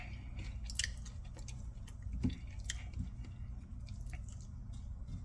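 Crunchy bites of a boneless pork rib taco with waha chili seasoning and fajita vegetables being chewed close up, a few soft crunches and wet squishes spread over several seconds with no talking.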